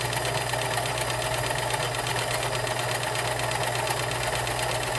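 A vintage 1946 Kenmore convertible sewing machine runs steadily for the whole stretch, with a fast, even mechanical chatter and hum at close range and no voices over it.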